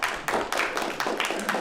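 Small audience clapping at a company presentation about a cargo team member, a short burst of brisk, close hand claps in a steady rhythm with no talking.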